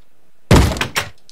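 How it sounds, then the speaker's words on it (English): In Minecraft, a zombie bangs on a door with a heavy thud and a few quick follow-up knocks. The blows land loud and close after a moment of quiet. "When there's a zombie knocking at your door, you don't open the door"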